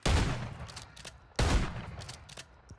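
The Spectral Grasp Lockwood 680 shotgun from the video game Warzone fires two loud, close booming shots about a second and a half apart, each followed by a faint ghostly ringing tail.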